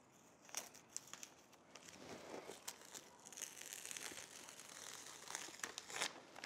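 A stencil peeled from a freshly painted, still-wet wall gives off a steady run of soft crinkling and tearing sounds, close and fairly quiet, with no talk.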